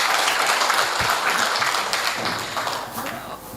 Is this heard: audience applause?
yes